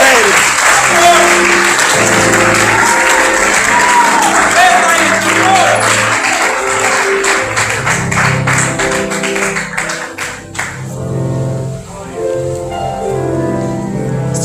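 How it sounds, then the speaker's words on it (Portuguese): Clapping and cheering from a church congregation praising the Lord during a Portuguese-language service, steady and fairly loud across the whole stretch, mixed with voices and what sounds like music or singing underneath. "Aplauda ao Senhor"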